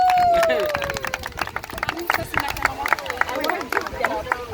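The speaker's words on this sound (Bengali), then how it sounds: "লিমন ভাবি এটা হাততালি" Clapping from a Bengali community group playing musical chairs, with a rhythmic run of claps beneath lively chatter and voices, plus a short whistle-like tone at the start.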